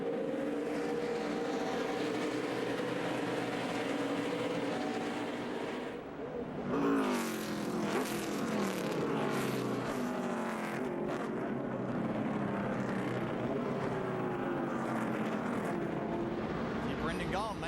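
NASCAR Nationwide Series race cars roar around the Road America road course, engines revving and shifting as cars pass close by, with a race commentator talking over the loud, continuous engine noise.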